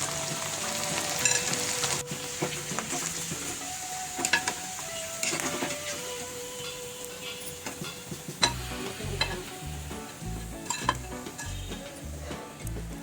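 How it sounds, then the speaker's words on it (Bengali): Rice flour pitha deep-frying in hot oil, with a soft steady sizzle, then intermittent clinks and scrapes of utensils against the pan and rhythmic knocks toward the end. "আমি এক এক করে সবগুলো পিঠা ভেজে নেব"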